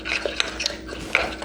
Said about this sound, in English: I could probably use the whisk now